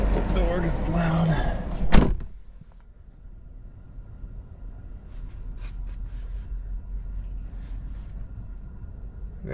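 A car door on a Volvo XC40 Recharge slams shut with one loud, sharp thud, cutting off louder background noise and leaving a quiet interior hum afterward.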